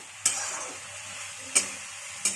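Local chicken cooking in butter is stirred in a pan. A steady close sizzle runs throughout, and three distinct scraping strokes of the spoon come at uneven intervals.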